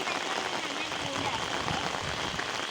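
Steady hiss of rain falling on a surface, a continuous wash of sound with a faint voice briefly in the background.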